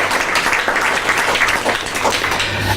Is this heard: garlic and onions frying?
no